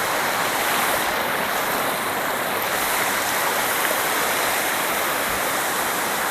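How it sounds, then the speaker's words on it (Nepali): Water pours and rushes steadily along a stream beside a forest path, a continuous near, loud broadband roar with no voices, unchanging throughout. "यो जस्तो पानी आउँछ वाउ देख्नको मजा नै बेग्लै छ"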